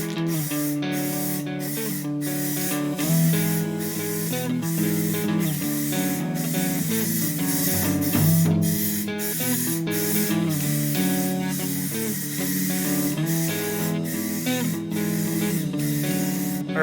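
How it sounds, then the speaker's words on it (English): Spray can laying down a light coat of primer during a Blazer top repair: a steady, loud hiss running continuously beneath rhythmic background music. "So I'm going to keep shaking this paint and then we'll start spraying."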